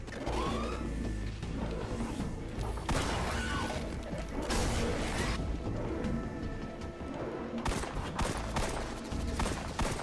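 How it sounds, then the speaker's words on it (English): Rapid auto rifle fire in Destiny 2 on Xbox crackles in dense, overlapping bursts across the whole stretch, with mechanical clatter and crashing impacts mixed into a busy game soundscape. "The auto rifle."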